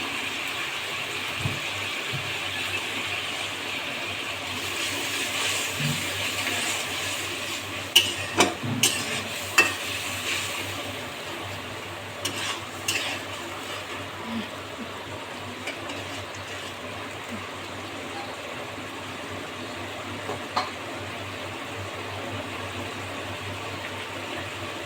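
Kohlrabi and fish curry stirred and fried in a pan, giving a steady low sizzle with scattered scraping clicks and clinks of a spoon against the pan, fairly quiet and close, with no voices.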